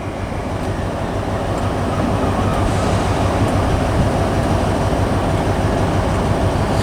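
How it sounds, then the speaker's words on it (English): An LNER High Speed Train, power car 43305 at the front and 43295 at the rear, departs Aberdeen station with a loud, steady, close rumble of engines and rolling stock, and no voices. "departing now will be the 1452 London North Eastern Railway service to London King's Cross"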